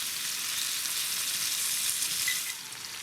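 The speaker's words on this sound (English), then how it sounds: "Look how they fry." Vegetables frying in grapeseed oil with sugar and molasses give a dense, even, close hiss and crackle that holds steady and then eases slightly near the end, with no talk.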